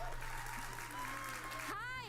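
A small crowd of about ten people claps steadily at a livestreamed game announcement show, faint and continuous beneath someone talking over a tonal music bed.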